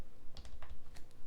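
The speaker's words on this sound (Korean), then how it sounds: "세밀한 위치 조정은 키보드의 방향키로 잡아주시면 된다 했죠" Arrow keys on a computer keyboard tapped during Photoshop image positioning for a GTQ certification lesson, giving a few quiet, close plastic clicks spaced irregularly over about a second, with no talk.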